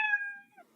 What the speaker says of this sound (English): it played the sound meow